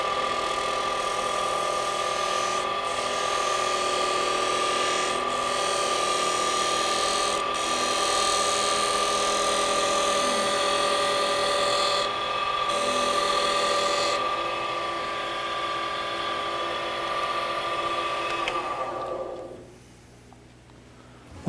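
A lathe keeps a steady mechanical hum as a woodturning tool takes thin cuts on a wooden globe ornament, with brief pauses and faint scraping, loud and continuous before the sound drops away near the end.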